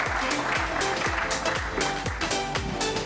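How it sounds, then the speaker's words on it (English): Audience applause at an awards evening, a steady dense wash of clapping filling the hall for about three seconds, with a faint voice underneath. "A big round of applause for Paru, people."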